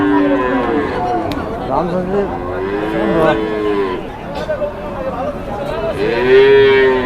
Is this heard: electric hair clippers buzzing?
no